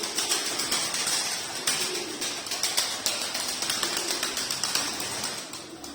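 Many birds coo softly together in a continuous chorus, with light rustling and scattered clicks mixed in; no talking.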